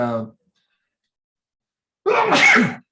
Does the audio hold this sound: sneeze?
yes